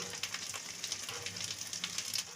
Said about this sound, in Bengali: ফোড়নে একটু পেঁয়াজ দিচ্ছি পেঁয়াজ পেঁয়াজটা একটু ভাজা ভাজা হোক